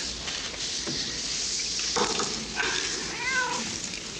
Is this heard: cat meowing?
yes